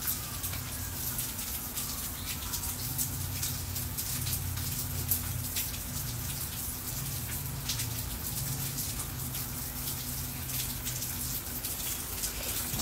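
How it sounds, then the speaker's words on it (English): Rain falling outdoors, a steady wash of dense patter and small drips throughout, with a low hum underneath and no talking. "It was raining again."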